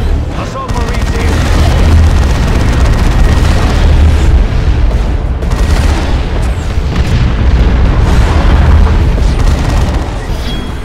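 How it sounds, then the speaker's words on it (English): Artillery strike explosions in the Warhammer 40,000 game Dawn of War 2, a loud, continuous barrage of deep booms and rumbling blasts with voices heard beneath the din. "Artillery strike!"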